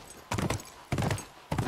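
Horse hooves clip-clopping in The Last of Us Remastered: three short bursts of several hoof strikes each, fairly near and clear, with no talk over them.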